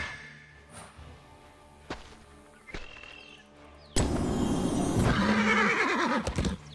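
A horse in the game Heroes of the Storm lets out a loud, drawn-out whinny near the end, after a few soft thuds and clicks in a quiet scene.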